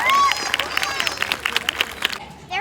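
Crowd applause at a Renaissance festival bird show, a spread of claps and cheering heard over a chattering audience, with a bird's whistle near the start.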